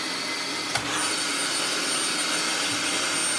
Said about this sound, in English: I'm going to turn this back on, we're then going to take the bin off and we shall soon hear it breathe.